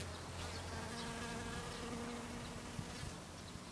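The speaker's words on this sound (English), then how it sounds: "A little bee there." A honeybee drinking sugar water outdoors gives a faint, steady buzzing hum that runs throughout with a few small ticks and no voices.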